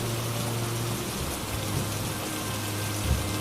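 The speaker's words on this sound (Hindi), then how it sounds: "भागो, बारिश आ गई, बारिश आ गई।" Heavy storm rain pours down in a dense, steady hiss that fills the whole clip at an even level, with a low rumble in the background and no voices.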